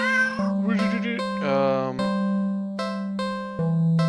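A cat meows over and over up close, a string of drawn-out, wavering cries with brief breaks between them.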